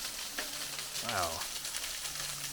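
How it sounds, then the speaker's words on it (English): Heavy rain pours at the entrance of an 1850s train tunnel in Tunnelton, Indiana, making a steady close hiss; a short wavering tone rises and falls once partway through. "It's just pouring right there."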